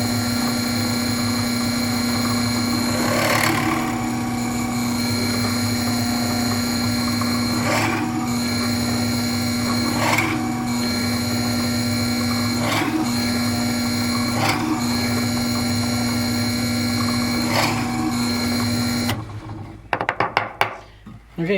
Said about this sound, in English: you can see that's really quick, drilling 12 holes